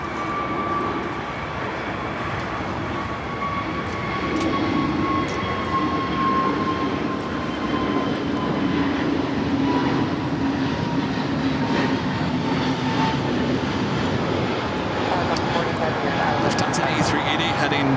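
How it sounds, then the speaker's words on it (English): An Airbus A320neo rolls down runway 25 right at LAX for takeoff, its engines a steady, loud broadband roar with faint whining tones that holds evenly for the whole stretch. "A320 Neo now rolling down at 25 right."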